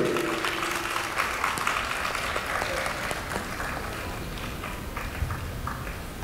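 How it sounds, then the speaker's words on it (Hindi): Audience applause at a Hindi Akademi, Delhi academic seminar held for Teachers' Day, with steady, dense clapping running the whole time at moderate volume in an indoor hall. "जोरदार तालियों से आप स्वागत कीजिए।"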